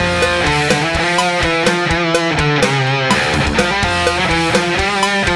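Dense, chaotic heavy distorted guitars with pounding toms and big crash cymbals in a rock production, loud and continuous with frequent drum hits.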